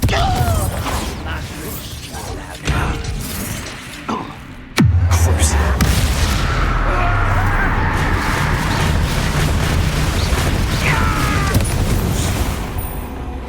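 A Confringo fire spell bursts in a Hogwarts video game, with a sudden loud boom and low rumble at the midpoint that rolls on under busy mechanical game noise and creaks for several seconds.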